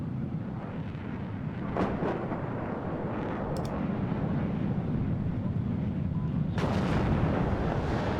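Gunfire and shelling in the Cold War strategy game WARNO, several sharp distant blasts and cracks over a constant low rumbling roar, with no talk.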